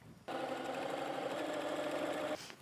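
Sewing machine stitching quilt strips for a quilt-as-you-go placemat, a close, steady, rapid motor whir that runs for about two seconds, then stops.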